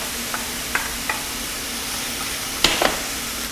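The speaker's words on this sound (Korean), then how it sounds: "표고를 넣고 같이 볶아줍니다." Shiitake mushrooms and corn kernels stir-fry in garlic oil in a pan, a soft continuous sizzle broken by a few light scraping stirs and a louder pair of utensil strokes near the end.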